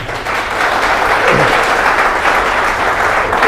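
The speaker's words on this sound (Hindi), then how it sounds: "ओके एक ताली फिर से।" A gathered audience at a Hindi religious teaching session claps together in a loud, close, continuous burst lasting a few seconds, with no talking over it.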